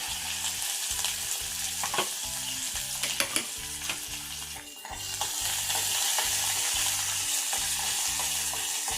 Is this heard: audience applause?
no